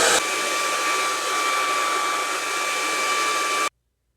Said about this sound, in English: This is just your basic boring blow dry.